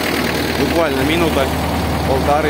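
A DT-75 crawler tractor engine idles just after a cold start with a steady, close, low rumble and faint knocking. Someone talks over the engine throughout.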